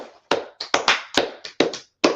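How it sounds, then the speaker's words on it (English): A class gives a round of applause during an online lesson: roughly nine sharp, irregular hand claps. They sound close and crisp, with short silent gaps between them and no talking. "let's clap it up for class right there"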